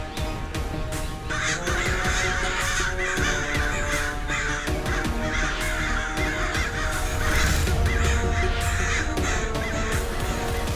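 Crows caw repeatedly over a dense, loud backdrop of dramatic music, their harsh calls mixing into a continuous orchestral score in a fantasy action scene.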